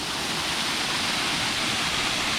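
A steady, dense roar of falling water at Knife Shop Falls, a stream tumbling over rocks beside old mill ruins into a deep pool, heard up close and unbroken with no voices.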